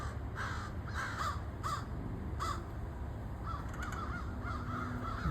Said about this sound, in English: Look at all those crows.